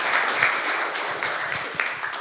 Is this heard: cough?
no